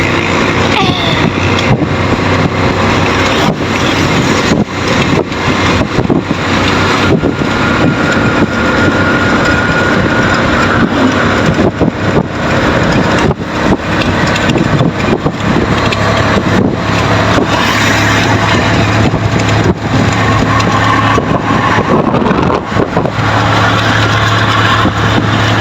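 An open-air vehicle drives a road from Bangcud to San Jose in Malaybalay City, with continuous wind buffeting and road rumble over a steady engine drone. The sound is loud and constant throughout, with occasional gusty bursts.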